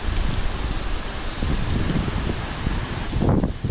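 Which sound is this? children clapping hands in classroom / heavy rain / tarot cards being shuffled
heavy rain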